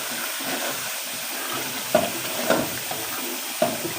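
Chopped onions and four green chillies fry in a pan with a continuous close sizzle, broken by a few louder scraping stirs, with no speech.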